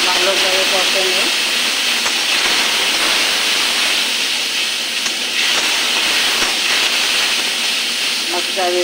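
Whisked sour curd fries in masala for a big-fish kalia, giving a loud, steady sizzling hiss that runs unbroken from start to finish.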